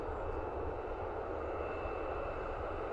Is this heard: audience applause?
no